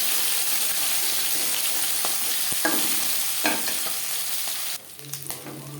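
Tangra fish frying in oil in a pan, a steady close sizzle with scattered pops and a few scraping stirs, the hiss dropping suddenly near the end to a quieter simmer.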